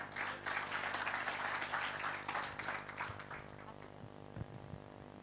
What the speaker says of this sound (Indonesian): Sekali lagi kita beri tepuk tangan dulu yang meriah buat teman-teman dari DPA.